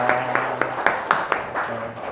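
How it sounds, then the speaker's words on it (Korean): A church congregation claps to welcome a guest at a Sunday service, a sparse run of separate hand claps at a steady beat, close and moderately loud, with a faint voice in the background. "우리 박수로 환영하겠습니다"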